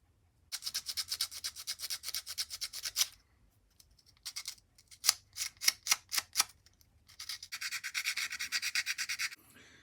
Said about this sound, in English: I'll have to go in with some sandpaper and smooth it up